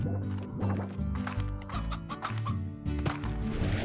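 Hens clucking in the Slime Rancher video game, a repeated run of close clucks over steady game music, with no talking.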